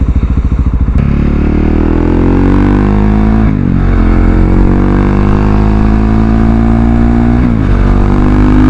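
Husqvarna 701 single-cylinder motorcycle engine cruising on the highway at about 7,000 rpm, a loud, steady droning hum that rises slightly in pitch as it holds speed, with constant wind rush and no talking.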